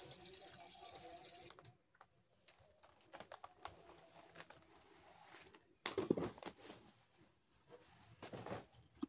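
A washing machine fills with water during a winter laundry session, a steady rush of running water broken by pauses and bursts of louder splashing and handling noise, with no talking.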